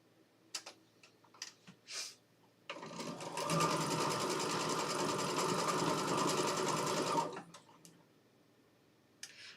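A home sewing machine starts up and runs steadily at speed for about four seconds with a fast rhythmic mechanical whir, then stops, framed by faint clicks and handling noises in a quiet sewing room.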